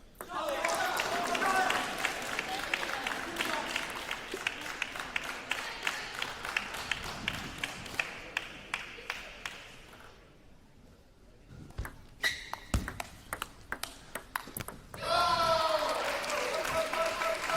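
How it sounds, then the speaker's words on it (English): A rowdy crowd at a table tennis national final claps and cheers in dense bursts of applause, dropping to sparse claps midway before swelling again, with a commentator talking over it. "The Westland crowd is getting rowdy."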